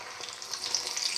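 Chili lamb patties with fenugreek leaves sizzle steadily in a hot pan, a bright, crackling hiss at moderate loudness with no voices.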